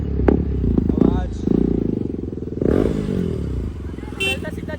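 Hero Splendor motorcycle engine idling and running steadily up close, its low throbbing rumble continuous under loud speech and street clatter.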